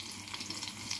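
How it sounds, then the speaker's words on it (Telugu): Shallots fry in oil for a dal tempering, a faint, steady hiss of sizzling close by with no other sounds. "చూసారా, చిన్నులపాయ వేగుతుంది."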